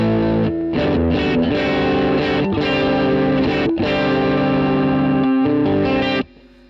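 A Jet Guitars JT-350 electric guitar with a vintage single-coil pickup plays loud, driven chords and notes through distortion and chorus, giving a bright Tele-style treble, then stops abruptly near the end.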